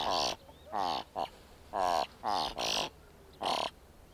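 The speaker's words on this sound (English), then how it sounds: "For the thick-billed raven, cattle herds are always of interest." A thick-billed raven calls near cattle herds in an Ethiopian valley, giving seven loud, harsh, croaking caws in an uneven series with short gaps between them, close and clear.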